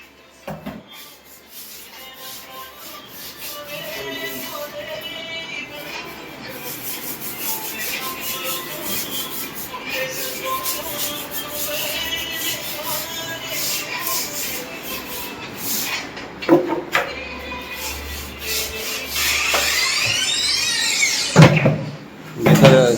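Teak wood frames being hand sanded with sandpaper during polish work, a soft steady rubbing that grows louder and more scratchy toward the end, punctuated by a few knocks and clatters.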